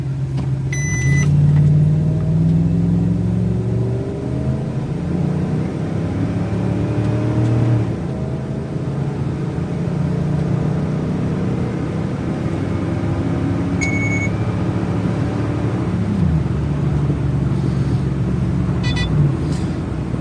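A 5.9 Magnum engine with a modified intake roars loudly and close during a 0 to 60 time trial, its pitch climbing and dropping in repeated sweeps through gear changes over a continuous heavy rumble.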